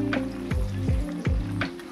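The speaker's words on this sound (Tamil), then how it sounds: "எண்ணெயோட கொதி நல்லா அடங்கின உடனே நம்ம வந்து இந்த சோளத்தெல்லாம் எடுத்துடலாம்" Corn kernels deep-fry in bubbling oil, a close, continuous sizzle broken by a few quick rhythmic scraping stirs, with no voices.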